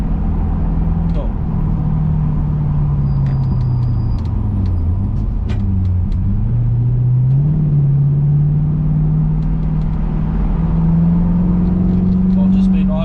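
A Chevrolet Camaro V8 muscle car rolls onto the Hampton Downs race circuit on a track day, its engine a loud, steady low drone whose pitch sags and rises as it moves off.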